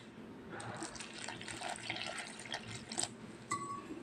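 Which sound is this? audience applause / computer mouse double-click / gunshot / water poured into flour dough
water poured into flour dough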